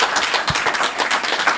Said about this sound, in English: maybe we'll give Arya a round of applause.